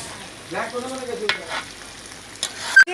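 Bottle gourd curry (lau ghonto) cooks in a pan with a soft, steady sizzle, briefly joined by a faint voice-like tone and a few small clinks near the end.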